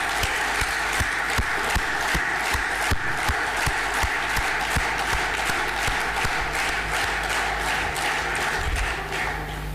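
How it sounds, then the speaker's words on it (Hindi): Loud, sustained applause from a large audience at a company gathering, honoring members of the Nexaf family, with dense clapping and occasional sharp claps running steadily through the whole stretch. "नेक्सफ परिवार के उन सभी सदस्यों के लिए जोरदार तालियां"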